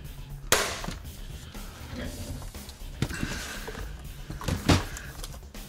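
An Umarex T4E .68 calibre CO2 paintball shotgun fires a half Nerf dart with a sharp, close pop. Lighter clicks and handling knocks follow, including another crisp snap near the end.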